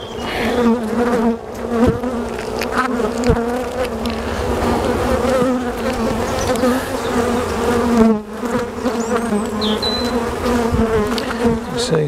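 Honeybees buzz steadily around an open hive during a swarm-prevention inspection, a dense, close, continuous drone with individual bees flying past, with no talk over it.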